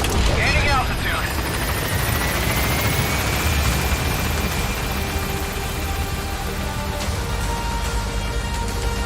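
In Metal Gear Solid V, a helicopter gains altitude with a loud, continuous rotor thrum and engine whine, a rising tonal sweep near the start and sporadic distant gunfire crackle mixed in.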